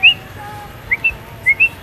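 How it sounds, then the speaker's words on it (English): A myna bird at a small woodland zoo gives several short, clear whistled calls, close by, spaced irregularly over faint background noise. "I think it's a minor bird. The one that imitates everything."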